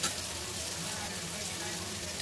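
Turmeric and spices frying in a pan with softened tomato for a kochur loti dish, a steady soft sizzle running evenly throughout, close and continuous with no talk.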